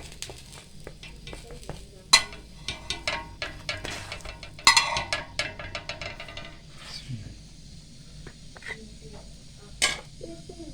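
Burger bun lightly frying in a pan for a street-style burger, with a quiet sizzle under a busy run of clinking, scraping utensil taps against the pan, then quieter stretches.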